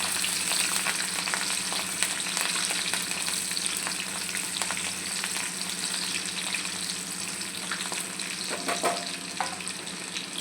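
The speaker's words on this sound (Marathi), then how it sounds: "आता यात आपण हिरवी मिरची, पण चांगली भाजून घ्यायची." Green chillies fry in a pan with a continuous close hiss and sizzle, broken by occasional scraping stir sounds.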